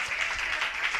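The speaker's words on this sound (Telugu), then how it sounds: "చప్పట్లు కొట్టి వందనాలు చెప్తాం కొంచెం గట్టిగా" An audience claps in a church at an anniversary service: a brief, fairly faint patter of many hands applauding together.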